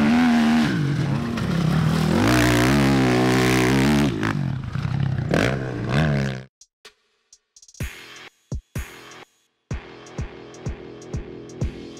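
A 2002 Honda CRF 450 motorcycle engine revs loud and close, rising and falling in pitch, then cuts off and gives way to a run of sharp clacks and knocks.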